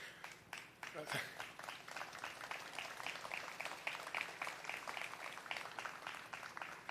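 An audience at a governor's bill signing for housing and eviction prevention claps steadily after partner organizations are acknowledged, the applause building after a brief opening and continuing at moderate level.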